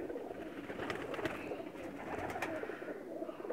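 Pakistani flying pigeons, females kept for racing flights, coo softly at close range in a loft, with repeated low throaty coos overlapping against quiet background noise.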